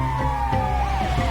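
An ambulance siren wails loud and close in GTA 5, its tone sweeping up and down over the low rumble of traffic.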